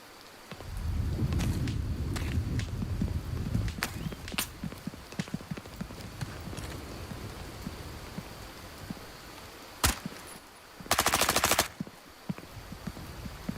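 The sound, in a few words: gunfire in video game Incursion Red River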